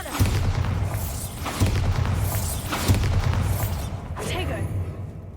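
Repeated booming spell blasts from the Bombarda spell in the Hogwarts Legacy video game, four loud low thuds spaced about a second apart, each with a bright crackling burst, under steady game background noise.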